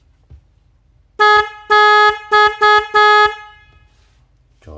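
A DNY double snail-type car horn gives five loud, bright blasts in an uneven rhythm, one longer and the rest shorter, standing alone against a quiet background.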